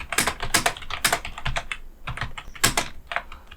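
Rapid, loud clicking of computer keyboard keys fills the whole stretch, close up and steady, as numbers are entered into a multilevel list in Microsoft Word.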